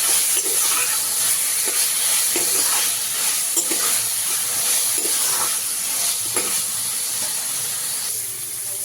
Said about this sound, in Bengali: মাছটাকে ভালো করে নাড়িয়ে নাড়িয়ে ভালো করে একটু লাল লাল মতো করে ভেজে নেবো